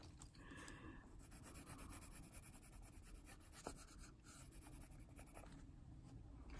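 Inktense colored pencil rubbing and scratching across paper in a steady, continuous stroking texture, close and quiet, with no voices.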